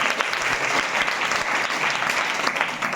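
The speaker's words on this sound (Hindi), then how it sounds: "वेरी गुड, इनके लिए ताली बजाओ जरा।" Schoolgirls at a girls' hostel clap for a fellow student, a dense burst of many hands applauding steadily and fairly close for a few seconds.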